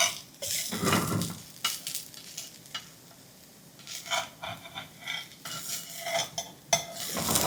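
A metal spatula scrapes and lifts a thin rice-flour ghavan crepe off a hot tava in short, uneven scraping bursts, working in from the edges, with a faint sizzle between strokes and no voices.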